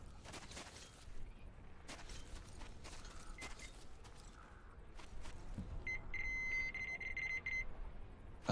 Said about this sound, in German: Seit wann piepst denn das?